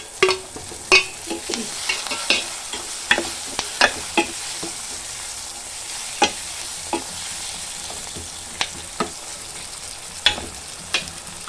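Onion and tomato with salt fry in a pan for egg curry, a low continuous sizzle broken by frequent sharp scrapes and taps of a spoon stirring against the metal at an irregular pace, close by with no talking.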